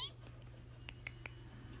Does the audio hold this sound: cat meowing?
yes